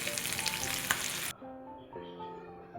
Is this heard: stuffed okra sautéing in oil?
yes